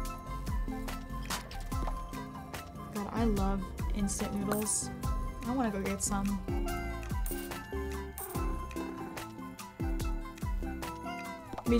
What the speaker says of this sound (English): Me trying to pet these kitties at freaking full speed.